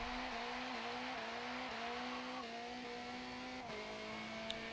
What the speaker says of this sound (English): we're going to be driving the number 5 Honda Civic TCC